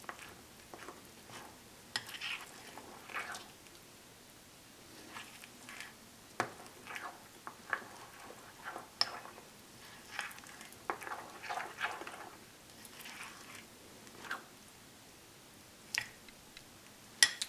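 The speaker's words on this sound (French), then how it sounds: "On mélange bien." A spoon stirring a chocolate ball mixture in a bowl, with irregular sticky scrapes and soft clinks coming in uneven bursts, close and fairly quiet.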